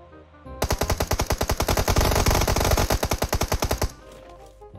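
Rapid automatic gunfire from PUBG Mobile, a sustained burst of about three seconds of evenly spaced, loud shots that stops abruptly, with no talking over it.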